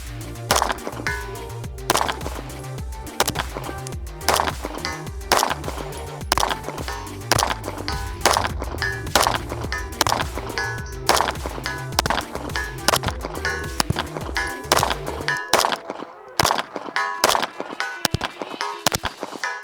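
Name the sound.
shots from Hayes ported Cobra barrel hitting steel targets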